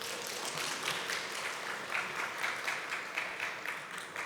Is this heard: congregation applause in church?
yes